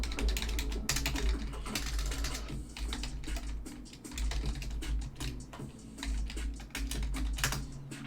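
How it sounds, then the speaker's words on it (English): Rapid typing on a computer keyboard, close and clear, with dense clattering keystrokes in uneven bursts and short pauses, heard alone without talk. "hold on, I'll type."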